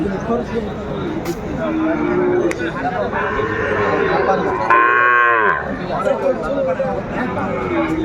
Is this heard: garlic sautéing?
no